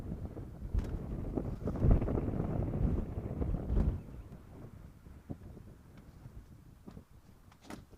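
Strong wind buffets the microphone with low, rumbling gusts, loudest early on and easing to a steadier, softer rush.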